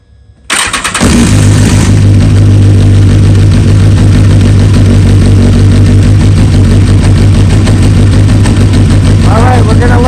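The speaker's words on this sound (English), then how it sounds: "we're gonna let the bike warm up" A BMW S1000RR HP4 sportbike fires up abruptly, then idles loudly and steadily at close range as it warms up after a quick shifter and auto blipper install.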